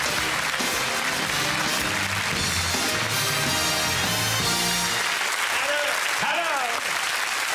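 A television studio audience applauds and cheers to welcome comedian Michel Leb on a French variety show, a dense, loud roar of clapping that thins out after several seconds as music comes in.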